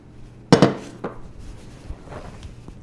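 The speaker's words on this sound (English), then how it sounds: "I'm gonna take the little crock here and let's put all of our ingredients in." A few knocks and clatters sound as tomato paste and tomatoes go into a small crockpot: one sharp clink followed by softer taps and light kitchen rustling.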